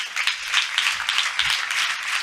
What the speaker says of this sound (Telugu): మీకు మీరే ఒకసారి చప్పట్లు కొట్టుకోండి గట్టిగా